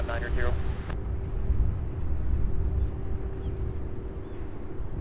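A UPS Boeing 767 arriving at Louisville airport gives a low, steady jet rumble with a faint tonal whine, heard at a distance; someone talks briefly at the very start.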